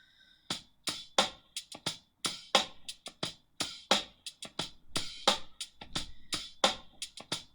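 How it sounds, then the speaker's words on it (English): A repeating drum beat from a software loop library, with sharp regular hits in a steady rhythm, played clearly and alone without any talking. "it's basically just a drum beat repeated over and over and over again."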